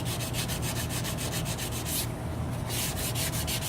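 Abrasive sanding on a chef knife handle of metal and wood, working up through grits: steady, close rasping strokes in a fast even rhythm, continuous and fairly loud throughout with no talking.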